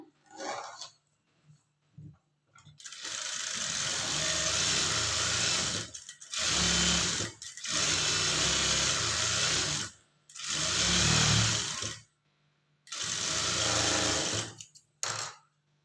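A sewing machine top-stitching blouse fabric, running in several bursts of steady whirring and clatter separated by short pauses, close and alone.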